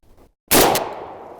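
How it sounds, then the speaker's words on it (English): A Tokarev TBP12 shotgun fires once at a cardboard target about 10 yards away. The loud, sharp blast comes after a brief quiet and then rings off in a decaying tail. "I'm going to shoot a little bit more to the top of the piece of cardboard, and we'll see if it runs."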